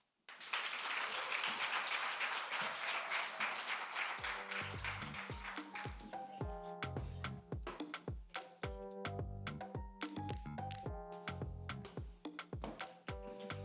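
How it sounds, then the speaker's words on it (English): An audience at a closing ceremony claps loudly and steadily for several seconds, then music with bright, ringing notes starts while scattered clapping carries on underneath. "Another round of applause."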